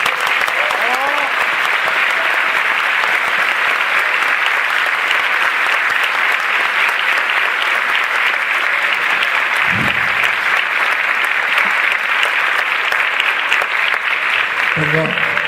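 Steady applause from a conference audience for a speaker giving his second talk of the day, dense and sustained throughout, with brief voices breaking through near the middle and end.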